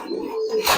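A Giribaz pigeon gives a single short, soft coo close by, with no one talking over it.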